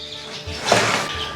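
A single short, high chirp from a lesser redpoll in an indoor aviary bird room, rising briefly above a soft, steady hum.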